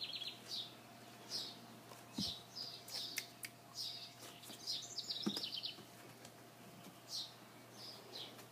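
Small birds chirping and singing in a home garden beside a frog pond, with short, bright calls repeating through the scene over a quiet background and a faint steady hum.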